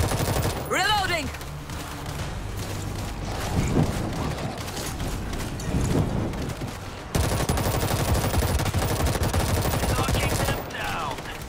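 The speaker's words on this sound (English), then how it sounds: "We're hearing gunfire from the river." Rapid bursts of gunfire and automatic weapon fire in the video game World War Z, Moscow level, loud and close, with clanking mechanisms and shouting voices underneath.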